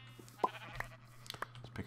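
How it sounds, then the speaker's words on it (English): Sheep in the video game Minecraft give a few short, faint bleats over a low background hum. "Wow, the sheep are real"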